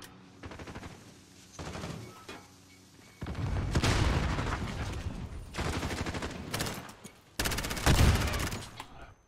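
Bursts of small rifle gunfire in Call of Duty Modern Warfare, several separate volleys of rapid shots, loud and close, with short quieter gaps between them and no talking.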